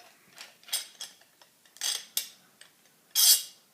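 A 1/4-20 speed nut is loosened on a cork press used for fishing rod making, giving close, uneven light metallic clicks and ratcheting ticks, with a louder scrape at the end and no voices.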